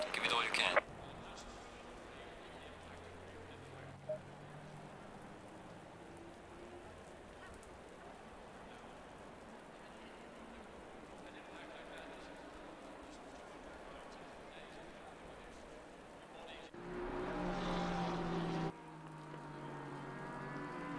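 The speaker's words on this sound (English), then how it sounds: "6 a.m. in the morning and a nice gentle drizzle going on here." A gentle early-morning drizzle at Spa in a racing video game, a faint steady rain hiss running under the whole stretch, with brief louder bursts near the start and again toward the end.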